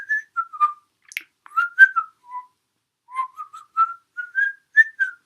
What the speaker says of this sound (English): it's basically a whistling tune